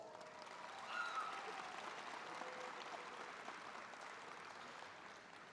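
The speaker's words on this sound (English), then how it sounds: "Let's give our parents a round of applause" Parents at a Meadowdale CTC graduation ceremony receive a steady round of applause from the audience, a dense even patter of many hands held at a moderate, fairly distant level throughout.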